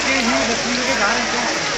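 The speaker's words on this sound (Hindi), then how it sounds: "वो ऊपर बारिश से पानी आ रहा है।" Steady rain falls and runoff water pours down from above at Pavagadh during Janmashtami, a dense, even hiss with voices faintly mixed in.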